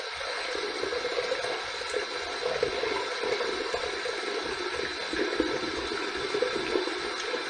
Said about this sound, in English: I'm going to heat this up under some hot water now